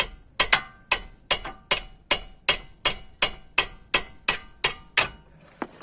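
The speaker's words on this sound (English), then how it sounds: "So to free it off, I can use a hammer." Hammer blows striking a seized Fiat Doblo front drop link nut, about fourteen sharp metallic hits in a steady, even rhythm, close and loud, each ringing briefly before the next.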